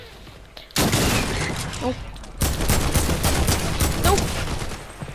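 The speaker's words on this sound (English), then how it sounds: "How do you like that gun? The rail gun." A rail gun fires repeatedly in a video game, dense loud crackling blasts in two long bursts after a brief quiet opening, with a person's voice briefly speaking over it.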